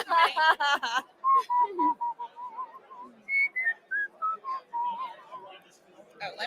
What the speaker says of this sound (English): I love to whistle.